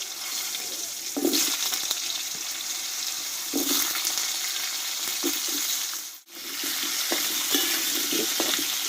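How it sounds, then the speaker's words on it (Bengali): Cut potatoes sauté in spice paste in a pan, giving a steady sizzling hiss with occasional stirring scrapes. The sizzle is close and continuous apart from one brief dip. "কেটে ধুয়ে রাখা আলুটা আমি কষে নেবো একসঙ্গে"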